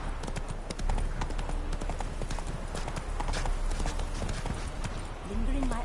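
Horse hooves clip-clop steadily and rhythmically throughout, in The Witcher 3 video game, over a busy game soundscape with a voice speaking in the background.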